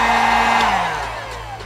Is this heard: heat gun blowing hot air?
yes